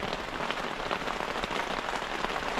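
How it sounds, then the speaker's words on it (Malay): Rain falling fairly heavily at night on a campsite, a steady dense patter on surfaces all around, close and continuous with no talking. "Ni dah hujan hampir lebat."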